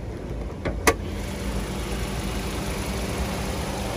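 A 2021 Suzuki Baleno GL engine idles steadily with a low, even rumble in the open engine bay, joined by a couple of brief clicks near the start; no one speaks.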